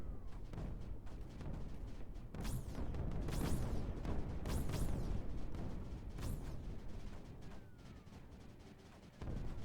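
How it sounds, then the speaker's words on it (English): Explosions in the strategy video game Creeper World 4, a dense, continuous barrage of booming blasts and crackling bursts layered over a steady rumbling roar, with several sharp peaks standing out. "You see all the explosions, and every one of those an enemy that will not be returning."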